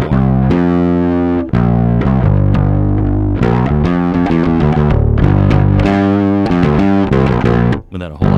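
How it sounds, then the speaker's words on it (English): Electric guitar played through a Hermida Audio Zendrive overdrive pedal set toward a distortion tone, with chords and single notes ringing loud and sustained throughout, then cutting off near the end. "And you can hear it's become a distortion pedal more."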